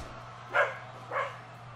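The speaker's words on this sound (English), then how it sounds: "Excuse my dog." Two short dog barks, about half a second apart, rise briefly over a steady low hum, close and moderately loud, during a wrestling commentary stream.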